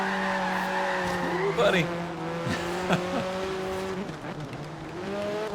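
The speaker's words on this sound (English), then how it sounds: "Unintentional drifts are the best drifts." Car drifting with squealing tires in Forza Horizon 3, steady engine drone overlaid by sliding tire screeches around the middle and end, with a man briefly exclaiming over it.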